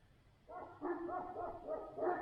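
Shepherd dogs bark out in the open at night, a run of faint, distant barks and yelps coming in quick bursts over a quiet background.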